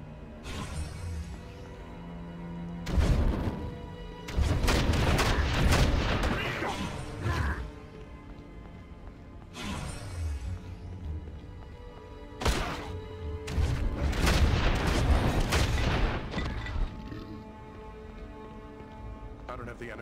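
Shots fire in the video game Baldur's Gate: Dark Alliance as a series of sharp, loud impacts in clustered bursts separated by quieter gaps, with a player talking over the action at times.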